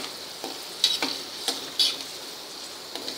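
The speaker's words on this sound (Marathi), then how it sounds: "ते पण तेलात कसे मस्त फुललेत." Sabudana (tapioca pearls) frying in hot oil on a gas stove for chivda, a soft continuous sizzle broken by several close scraping stirs of a utensil in the pan.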